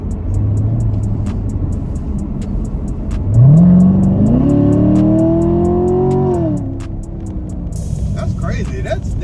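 A Corvette Stingray with a stock exhaust revs hard, its engine note climbing sharply and holding a loud, rising growl for a few seconds before dropping away, with outdoor background noise and people talking nearby.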